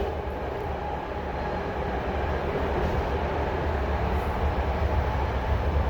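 Freight trains rolling through the Oakland International Gateway rail yard, a steady low rumble heard from a passing train emerging from a tunnel, continuous and fairly loud with no talking.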